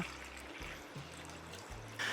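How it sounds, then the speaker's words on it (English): Sanitizer liquid is poured back into a storage container during home beer brewing, a soft, steady trickle that stays faint and continuous. "I need to pour that sanitizer back into my sanitizer storage"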